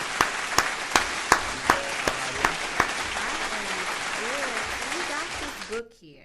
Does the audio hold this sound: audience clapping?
yes